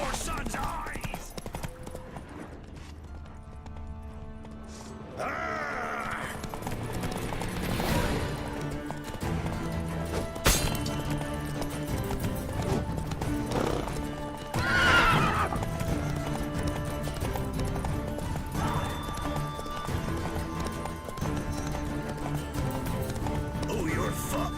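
Roach, the horse in The Witcher 3, gallops with loud, close hoofbeats and lets out several sharp neighs, mixed with game music, crashes and battle noise throughout.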